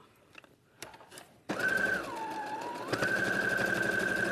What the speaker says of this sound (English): straight line of stitching all the way down to attach that little ear in.